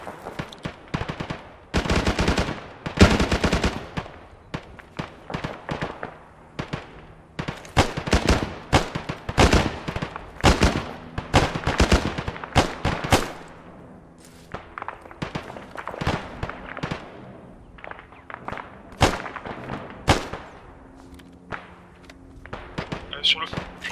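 Gunfire in the military game ArmA 3, with repeated bursts of automatic fire and single shots, some close and sharp, others fainter and more distant, spread across the whole stretch.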